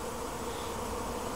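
Honeybees from nearby village hives hum in a steady, faint, continuous drone with no voices over it.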